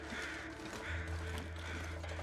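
Crows caw in a nature video game. Several rough caws repeat at a quiet level over a faint background hum, with no speech.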